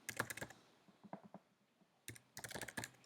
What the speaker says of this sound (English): I'm just typing